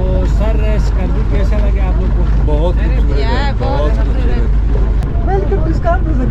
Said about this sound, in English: The engine is gonna go right now, guys, so it might get really noisy.